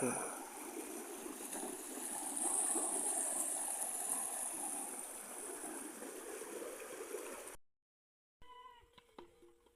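River water flows steadily along a riverbank where goats graze, a continuous rushing wash close by that stops suddenly and gives way to a few brief, quieter tonal sounds.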